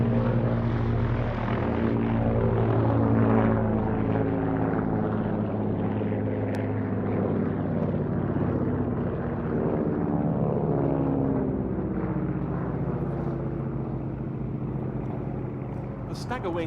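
Gloster Gladiator and Hawker Fury biplanes fly by at an air show, a steady loud droning piston-engine roar that holds throughout under a commentator's voice.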